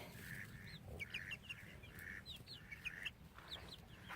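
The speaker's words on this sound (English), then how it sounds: "I have 8 new chickens." Chickens in a small backyard flock in Lovelock, Nevada cluck and peep in short repeated calls over a low background rumble, close by and moderately quiet, with no speech.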